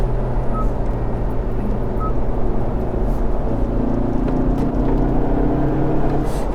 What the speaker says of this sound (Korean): 이건 이제 엔진 스포츠 소리.